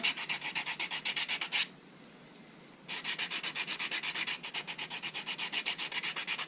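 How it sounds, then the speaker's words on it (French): Wooden clamping knobs get their rounded edges sanded with 120-grit paper, a close, loud rhythmic rasping in quick back-and-forth strokes, broken by a pause of about a second before the strokes resume. "on va mettre un petit coup de ponçage sur les arrondis là"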